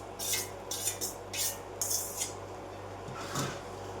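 A spatula stirs and breaks up cooked rice into vegetable masala for a peas and cashew pulao, producing several rhythmic scraping strokes against the pot, close and with no talk.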